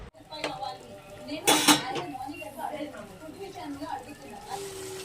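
A ladle stirs tomato pieces into chicken curry in a pot, giving close metallic scrapes and clinks with one louder clatter; someone talks throughout.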